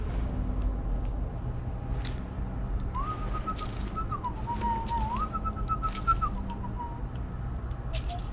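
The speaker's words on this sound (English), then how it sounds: "I just realized I'm whistling directly into the mic." A person whistles a short wavering tune right into the microphone during a Skyrim gaming session, close and clear over a steady background hum and some faint clicks.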